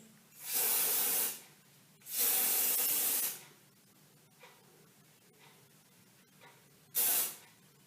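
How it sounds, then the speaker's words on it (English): Hairspray hisses from an aerosol can onto a Dutch braided bun in three bursts: two long sprays about a second each, then a shorter one near the end, close and clear over quiet background rustling. "Spray this."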